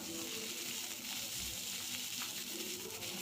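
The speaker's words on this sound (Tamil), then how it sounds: "பொன்னிறமாக வறுத்தட்டிக்கும் வதக்கிடுங்க" Steady, close sizzling of onion sautéing in a hot pan, continuous and fairly quiet, with faint stirring scrapes and no voices.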